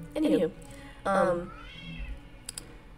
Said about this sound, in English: My cat is way behind me in the back by that wall back there.